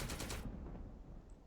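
A short, quiet burst of rapid machine gun fire from the Second Front video game ends abruptly, followed by faint background ambience.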